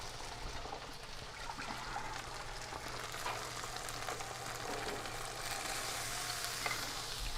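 Orange chicken sauce, thickened with cornstarch, simmering and sizzling in a pan, a soft, even bubbling hiss heard up close with no talking.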